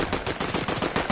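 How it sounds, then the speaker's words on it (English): Rapid automatic gunfire from a Fortnite match as a player shoots into a building to break its roof, a dense loud burst of repeated shots across the whole moment with no talk over it. "Rafa just start shooting the building, breaking the roof"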